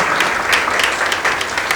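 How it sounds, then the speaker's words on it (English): Workshop attendees at an audit boot camp give a brief, dense round of applause, steady and fairly loud, with no voices over it. "May I have a big round of applause from him?"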